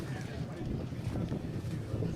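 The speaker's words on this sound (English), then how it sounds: "Strong windy in Walfish Bay." Strong wind at a coastal rugby match in Walvis Bay, a steady low rushing roar buffeting the microphone under a commentator's voice.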